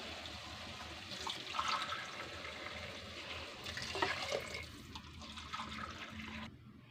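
Water poured for cooking sambar rice, a faint steady splashing and trickling stream that swells in a couple of bursts, with no voices.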